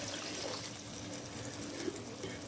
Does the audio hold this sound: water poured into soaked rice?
yes